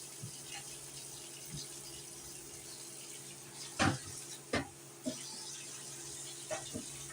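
Marinade sauce for char siu pork belly is poured into a small cup in a kitchen, a faint trickle under low background noise with a few short splashy bursts near the middle.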